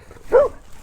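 A dog met along a green lane gives a single sharp bark, close and loud, standing out briefly against quiet outdoor background.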